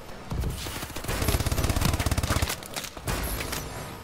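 Dense automatic gunfire from the video game Call of Duty: Advanced Warfare, with a rapid rhythmic burst in the middle and sharp loud shots throughout, close and heavy.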